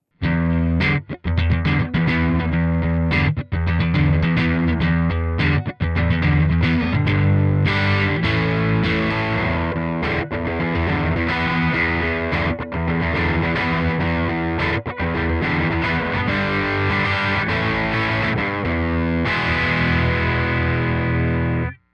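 Heavily distorted electric guitar through an amp, captured by a Royer R121 ribbon mic at the center of the speaker cone, chugging dense, loud chords close up with a smooth, full low end.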